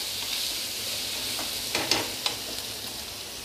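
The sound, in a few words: onions, green chilli and curry leaves sautéing in a pan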